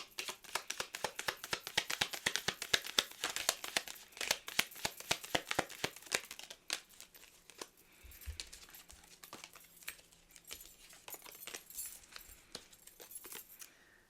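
A mastery-mindset deck of oracle affirmation cards is shuffled and handled, giving a dense run of crisp card flicks and riffles up close, then sparser taps and slides of cards being drawn; no one speaks.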